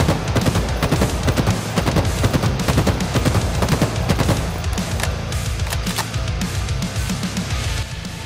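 BR-75 battle rifle fire in the shooter game Halo Infinite: loud, continuous bursts of sharp close shots in quick rhythmic volleys, with no talking.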